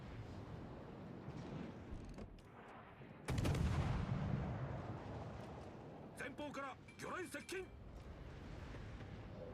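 Warship guns fire in World of Warships Legends, a sudden heavy blast followed by a rumbling roar that fades, then several sharper cracking shots further off, with a voice faintly present underneath.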